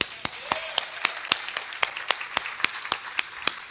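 Church congregation clapping in a steady rhythmic beat, about four sharp claps per second from a group, under a faint background murmur.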